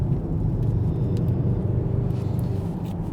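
A 2025 Range Rover Sport SV in dynamic mode driven hard into a corner, heard from inside as a steady deep engine and road rumble with a constant low hum and no talk.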